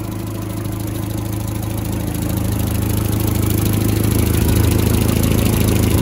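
A 1960 Land Rover Series II 88-inch petrol pickup engine runs steadily close by, a low, even idle that grows slightly louder halfway through, with no voices.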